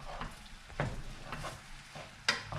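Chicken fried rice being stirred in a hot pan, soft scraping strokes at a loose rhythm over a quiet sizzle, fairly faint and close, with no talking.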